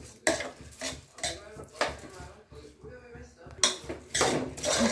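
Rice for pulao being fried and stirred in a pan with a metal spoon, bursts of scraping and clanking against the pan repeating every second or so, with quieter gaps and a soft sizzle beneath.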